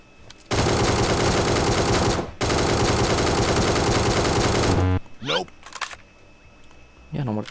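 Automatic gunfire from an ACE32 rifle in a shooter video game: two long, loud, continuous bursts of rapid shots with a brief gap between them, then quieter scattered sounds and voices.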